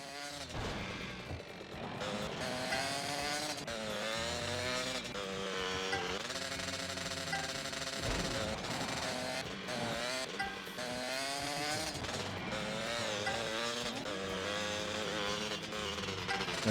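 A vehicle engine in GTA Vice City Stories on the PS2 revs and accelerates steadily, its harmonic whine rising and falling in pitch as it climbs through gears, loud and continuous throughout with no talk.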